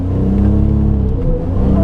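A 1992 Suzuki Cappuccino's small engine pulls hard in second gear on a mountain road at Mt. Rokko, a loud, steady, close drone with a rising tone and no talking.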